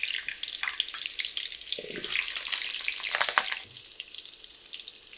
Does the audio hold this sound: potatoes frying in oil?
yes